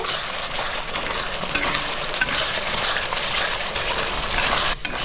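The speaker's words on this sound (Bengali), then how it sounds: "মশলাটা ভালো করে কষাই নেব, মশলার গা থেকে যত সময় তেল না বেরিয়ে আসছে।" Spice paste sautéing in oil for a fish-head and cabbage dish sizzles loudly and continuously up close, with stirring scrapes and occasional spatula taps.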